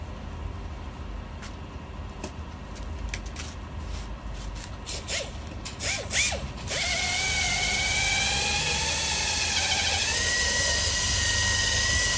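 A polishing tool works on a car headlight during restoration, starting with scattered clicks and short buzzes, then settling into a loud, steady, high-pitched whine that runs continuously at close range.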